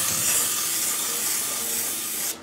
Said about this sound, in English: I'm going to grab my misto, and I'm going to spray the inside of my bowl just a little bit